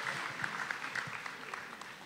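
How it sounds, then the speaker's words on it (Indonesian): Scattered applause rises from the audience at a women-in-tech panel discussion, a faint, thin patter of hands heard from a distance in the room. "boleh tepuk tangan kalau ada yang mau"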